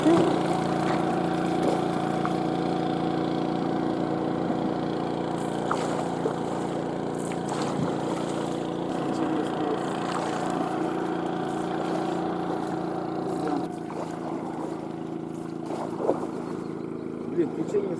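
A small motorboat's engine drones steadily while crossing a river, a constant mid-level hum with faint splashes and occasional knocks, and people talk intermittently over it.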